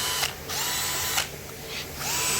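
A Bitec CSR 12-2 cordless drill runs in short bursts, a thin whining motor that starts and stops three times, each lasting about a quarter to three quarters of a second, with no talk over it.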